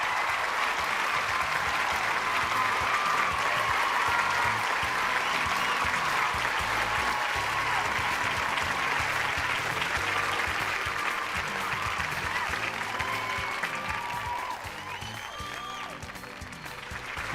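A studio audience at a televised Malayalam talk show claps steadily and loudly for a guest, Punjab chief minister Bhagwant Mann, in one long unbroken round that fades slightly toward the end.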